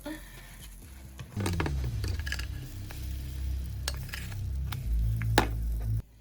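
Oat and Greek yogurt pancakes flipped in a pan, a scrape and clank of a spatula followed by a steady close sizzle of frying, with a few clinks before the sound cuts off.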